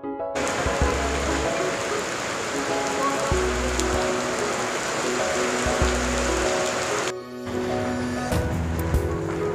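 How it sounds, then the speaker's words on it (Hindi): At Jog Falls, rain patters steadily on surfaces under a constant watery rush, with faint low thumps recurring and a brief dropout near the end; a voice talks faintly now and then. "फिलहाल बारिश हो रहा"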